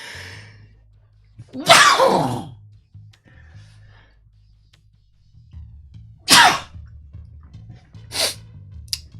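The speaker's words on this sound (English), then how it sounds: "Oh, I've got to sneeze. Can I sneeze?" Several sneezes with quiet pauses between them: one big, drawn-out sneeze, then a sharp second, and smaller ones trailing off, close and loud.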